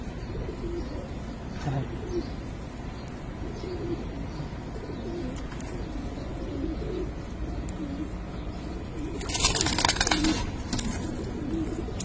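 Silver-necked Giribaz pigeons coo softly amid a constant noisy background, with a louder rustling burst near the end.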